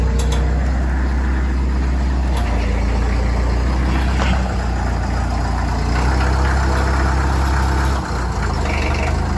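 A 1934 Plymouth truck's engine idles in a steady low rumble near a shop, with faint clanks and background noise throughout.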